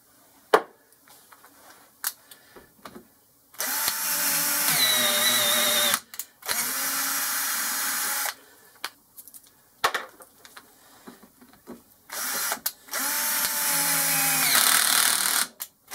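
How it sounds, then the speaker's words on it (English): Power drill turning a 6mm tap into metal in a lathe workshop, sounding in several sustained whining bursts of a few seconds each, separated by quiet pauses and small clicks, close and loud. "I've put a 6mm tap in the drill."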